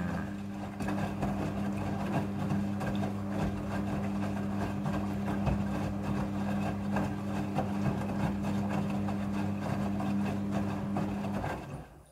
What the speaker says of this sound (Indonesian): Jadi jumlah air yang dibutuhkan untuk proses pembilasan ini diatur secara otomatis oleh mesin cucinya.